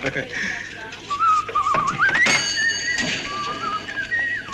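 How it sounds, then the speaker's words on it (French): A person whistles a short, wavering tune, moderately loud over a busy background of room noise and faint murmur. "Eh oui, je siffle."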